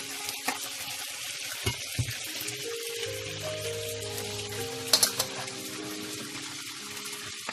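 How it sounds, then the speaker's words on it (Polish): Hot water from a kettle is poured into small pots in a home kitchen while preparing pork neck rolls with mushrooms, a soft steady pour with light clinks and trickles, quiet and close, without talk. "Teraz my zalewamy gorącą wodą czajniczka."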